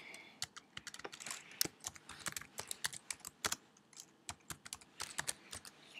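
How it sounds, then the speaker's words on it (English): Rapid, uneven keystrokes on a computer keyboard while text is entered in Photoshop, close and clear, with bursts and short pauses and no talking. "So I'm going to type this."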